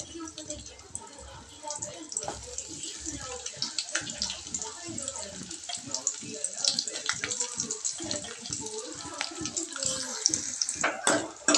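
Onions fry in hot oil with cumin, mustard seeds and curry leaves, giving a steady, crackling sizzle close by while a person talks over it.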